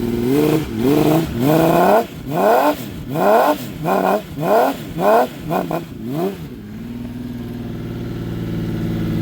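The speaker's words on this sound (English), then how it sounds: "even at a low idle, this thing it's such a quiet motor" A cold Honda CBX motorcycle engine gets a quick series of sharp throttle blips that rise and fall in pitch, then settles into a smooth, quiet low idle, close and clear.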